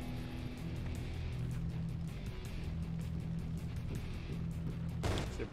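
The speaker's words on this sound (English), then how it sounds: "Oh, we had an explosion there. You guys heard that?" In a firefighting simulator video game, a sudden loud burst near the end, a sharp crash-like blast cutting through a steady low rumble of engine and crackling fire noise.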